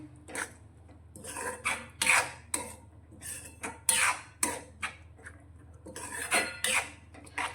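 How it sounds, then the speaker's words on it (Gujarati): Yogurt stirred into a Punjabi-style vegetable curry in a pan over a low flame: repeated scraping and clinking strokes of a metal spoon against the pan, close and irregular, with short quiet gaps between strokes. "દહીંને આપણે સારી રીતે મિક્સ કરીશું"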